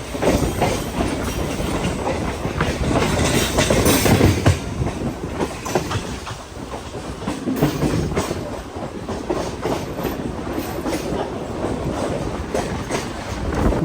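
A MEMU passenger train running from Palasa toward Visakhapatnam rumbles steadily with rattling and clacking, loud and close throughout, swelling slightly around four seconds.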